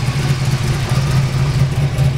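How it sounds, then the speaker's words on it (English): A 1971 Plymouth Roadrunner with a freshly rebuilt 440 six-pack V8 idles steadily at close range, a low, even rumble with the slight puffing of an exhaust leak, and no talk over it. "Got a little bit of an exhaust leak that still needs to be tended to."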